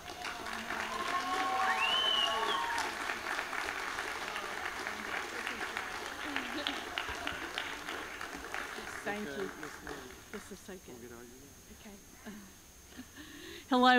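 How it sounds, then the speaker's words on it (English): An audience at the History Bowl 2017 claps loudly for several seconds, the applause slowly fading while voices carry on beneath it. "So get up on your feet, clap your hands"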